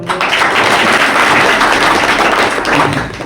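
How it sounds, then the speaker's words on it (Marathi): A reunion audience of former schoolmates claps together in a dense, sustained round of applause that stays loud throughout before easing slightly at the end. "असे लोकांसाठी टाळ्या वाजवल्या पाहिजे एकदा टाळ्या"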